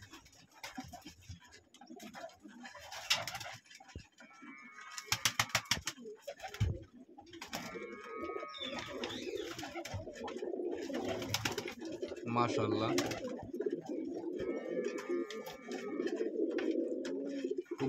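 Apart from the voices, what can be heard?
pigeons cooing in loft, feeding chicks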